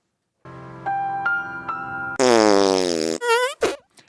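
A fart sound effect played on a comedy talk show: a buzzy, sputtering blast of about four seconds that rises into a loud, stretched squeal, then breaks into a few short, wet bursts at the end.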